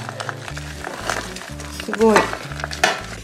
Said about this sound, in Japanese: さあ、大きめの鍋にすべて材料を入れていきます。